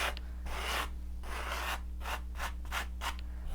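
Excess oil paint being scraped off a canvas, a series of close, rasping strokes, a few long drags followed by quicker short ones, over a low steady background hum.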